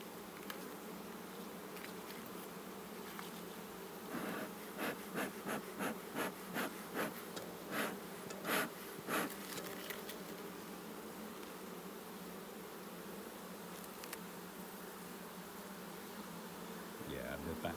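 Honey bees buzzing around an open beehive, a faint steady hum close by with short louder bursts as bees pass, and quiet talking now and then.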